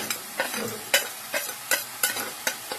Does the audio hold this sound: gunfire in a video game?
no